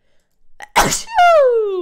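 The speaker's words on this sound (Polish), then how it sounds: "Kichnę zaraz." A single loud, close sneeze with a short wind-up breath, then a sustained, descending vocal tail, with no other sound around it.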